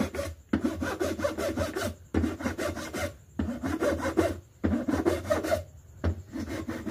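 A metal file rasps over the locking tabs of a mixer grinder in repeated close, harsh strokes, about five long scraping passes separated by short pauses, with no talk.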